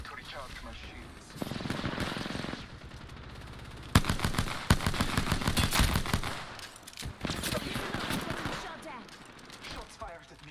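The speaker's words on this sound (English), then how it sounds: "Shots fired at me." Rapid bursts of automatic gunfire ring out in the Apex Legends video game, firing in several volleys with sharp crackling shots, while a voice talks over parts of it.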